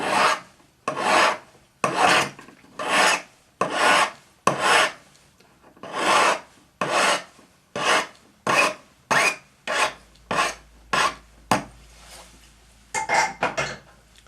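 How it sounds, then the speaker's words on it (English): A metal file rasps on wire for a spiral pendant in a steady rhythm of about twenty short, close strokes, each a brief gritty scrape, with short pauses between them and no talking. "So you can see I'm turning the wire as I'm filing it."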